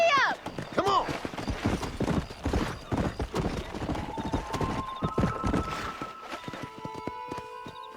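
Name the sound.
horse galloping in Red Dead Redemption video game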